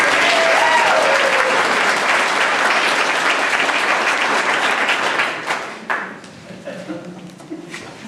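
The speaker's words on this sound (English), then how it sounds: "can you give another round of applause for Freefall" Audience at a geology presentation about the Pacific Crest Trail bursts into loud, dense applause that holds for several seconds, then thins out into scattered individual claps.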